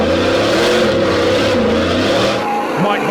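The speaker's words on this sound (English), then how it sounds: "that Lexus V8 just singing as he hits the throttle" A Lexus V8 in an off-road 4x4 trial vehicle revs hard and close, its engine note rising and falling as the throttle is worked, then dropping away near the end.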